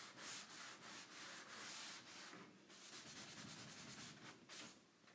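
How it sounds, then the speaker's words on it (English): Rhythmic rubbing strokes of a sanding sponge distressing painted old furniture, each scrape rising and falling in a steady back-and-forth pattern, close and fairly quiet. "I think I'm wearing the sanding sponge down."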